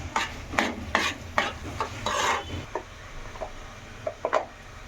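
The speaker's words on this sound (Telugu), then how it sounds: "పచ్చిరొయ్యలు వేసుకోవాలి. ఫస్ట్ వేసుకుని అలా మిక్స్ చేయాలి." Raw prawns stirred in a frying pan for a prawn curry, a series of close scraping, clattering strokes of a spoon against the pan with a faint sizzle, spaced irregularly and growing quieter.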